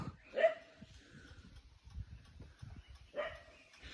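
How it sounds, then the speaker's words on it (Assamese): A dog barks a couple of times on a mountaintop, once near the start and again near the end, with low rumbling noise in between. "কুকুৰা পুৰা ভুকি আছে"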